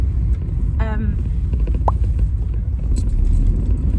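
Inside a car commuting to work through rush-hour traffic: a steady low road and engine rumble fills the cabin, with a brief chirp and a short tonal blip over it.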